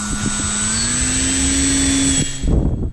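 The electric motor of a Skynetic Shrike RC plane whines steadily at close range as it is hand-launched with takeoff flaps, its pitch rising slightly before it cuts off, followed by a few rustling handling noises.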